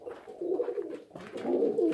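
Rooftop-raised homing pigeons coo softly in low, throaty rolling calls, two phrases with a short pause between, close by and fairly quiet.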